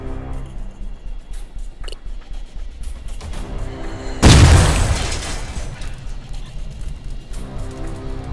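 Artillery opens fire in the Iron Conflict strategy game with a single heavy boom partway through, its rumble fading over about a second against a steady bed of background game noise.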